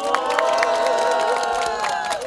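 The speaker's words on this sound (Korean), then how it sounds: "박수 한번 크게 보내주세요." Crowd cheering and clapping at an outdoor political rally, a dense wash of voices and shouts that holds steady for a couple of seconds.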